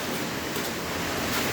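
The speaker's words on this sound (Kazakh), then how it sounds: "Мына судың бәрі үйде мынау." Rain floodwater pours into a house in Kentau, making a continuous broad rushing roar like surf, steady and fairly close with no voices.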